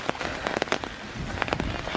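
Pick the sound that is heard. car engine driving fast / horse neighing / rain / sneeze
rain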